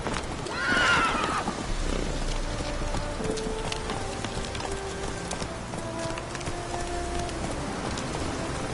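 Roach the horse galloping in The Witcher 3: Wild Hunt, with a whinny near the start followed by steady rhythmic hoofbeats, rain falling and faint birdsong in the background.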